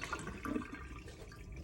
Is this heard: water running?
yes